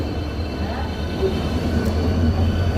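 A train rumbles past nearby in a steady, loud drone with a low clatter, continuous throughout the short stretch.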